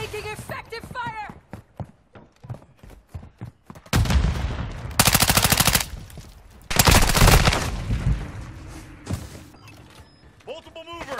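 Automatic gunfire in a first-person shooter: two long, loud bursts of rapid fire stand out over scattered single shots and clatter, with brief voices before and after.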